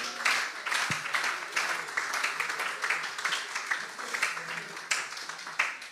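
A church congregation claps together in a sustained round of applause, steady and fairly close, with some voices underneath.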